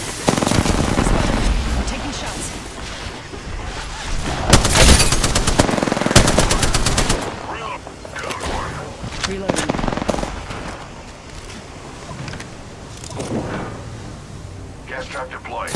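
Rapid machine-gun bursts and overlapping gunshots in an Apex Legends match, loud and close, with a heavy volley in the middle and sporadic fire later, under game voice lines.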